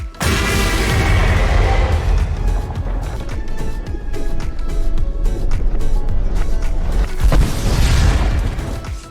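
Minecraft mod boss defeat explosion, a loud booming blast with rumbling low-end debris that swells, sustains, then bursts again near the end, dense and continuous with no talk.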